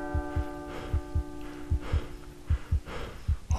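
Heavy, loud breathing from a character in the video game The Monastery, long rasping breaths over a steady hum and a regular series of low thudding footsteps.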